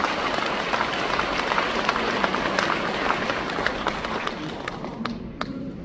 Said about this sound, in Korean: 동의하시고 박수 한번 주십시오.